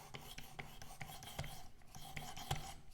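A knife being sharpened on a ceramic stone with a Work Sharp Precision Adjust Elite: repeated quiet rasping strokes, roughly ten in a steady rhythm, close and soft, with no talking.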